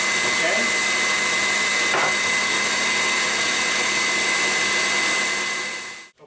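Electric mixer beating anisette biscotti batter as flour goes in, a loud, continuous whirring drone that runs steadily for several seconds and then cuts off abruptly.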